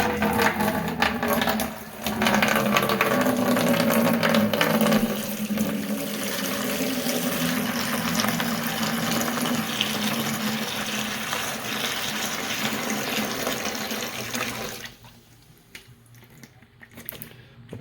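Apple juice poured from high up into a container for making cider: a steady, splashing stream of liquid lasting many seconds, close and fairly loud, then tapering off near the end.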